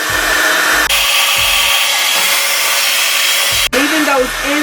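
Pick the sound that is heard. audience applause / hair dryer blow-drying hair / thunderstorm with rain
hair dryer blow-drying hair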